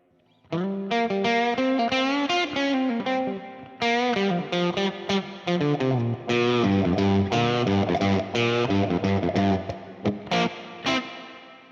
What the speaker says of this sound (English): on this guitar with the P90 on the bridge, you can hear it there instantly